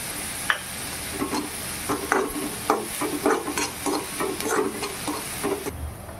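Onions with salt frying in a pan, stirred with a spoon for a curry of kurdai bhaji: steady sizzle under repeated scraping strokes, close and moderately loud, no talking.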